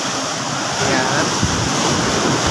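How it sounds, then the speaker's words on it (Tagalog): Sea waves wash steadily onto a beach with cottages nearby, a continuous broad roar of surf mixed with wind noise on the microphone, with no speech heard. "nandito po ako ngayon sa may dagat"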